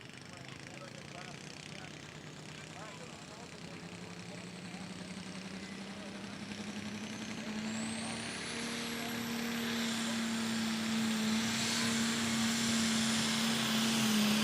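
A tractor engine roars during a run at the 2021 Chrisman truck and tractor pull, a loud sustained drone that climbs steadily in pitch and grows louder over the run.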